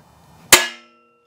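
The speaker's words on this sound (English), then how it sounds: "a punch is very helpful. Gives you the ability to make a dent where your drill bit will sit" A single sharp metallic tap of a punch making a dent in metal, close and loud, with a brief ringing decay afterward.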